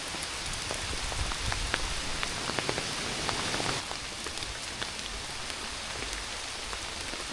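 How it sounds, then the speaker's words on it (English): Heavy rain pours down during a hike across New Zealand, a dense, steady hiss with scattered sharper drops striking nearby surfaces, louder in the first half and then easing to a softer, even downpour. "the rain is just absolutely pouring down"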